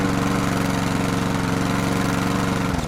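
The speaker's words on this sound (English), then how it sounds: "I'm going to take the Exmark Commercial 21 inch push mower and I'm going to put the mulch plug in it and use it for the very first time" An Exmark Commercial 21 inch push mower fitted with a mulch plug runs at a steady, close, loud engine putter that stays even until it drops off at the very end.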